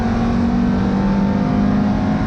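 A Ferrari 430 GT3 Challenge race car's engine drones loudly and steadily up close, a thick, unbroken mechanical roar with no voices over it.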